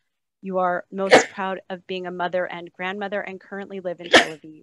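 Two sharp sneezes burst out amid a woman's continuous speech in an online meeting, one early and one near the end, each a brief loud explosive puff over the talking.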